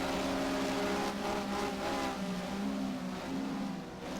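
Simulated Porsche Mobil 1 SuperCup race car engine in the Race07 racing game at Estoril, a steady loud droning whine with harmonic pitch that sags slightly as the car winds down under braking.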